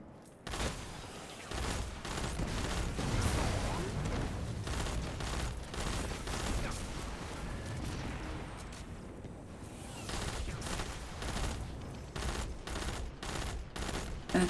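Rapid bursts of gunfire from a freshly picked-up weapon in Destiny 2, loud and near, firing in dense volleys with brief pauses, close to continuous across the whole stretch.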